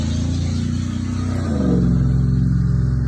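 A car passing along a neighborhood street, its engine rumble steady and then swelling as it draws nearer, loud and alone with no talking.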